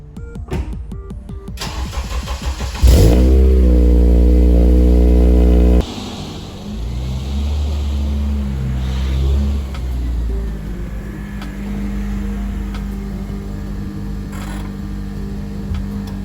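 An 8th generation Honda Civic Si cranks and starts, then settles into a loud close idle and a few gentle revs before dropping back to a steady running hum, with no talking.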